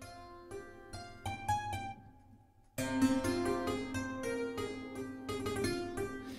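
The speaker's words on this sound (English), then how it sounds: "There it is, clavichord." Plucked, twangy keyboard notes from a sampled clavichord in the Keyscape library, first a handful of separate notes, then a short pause and a fuller run of chords with sharp attacks, played clearly with no talking.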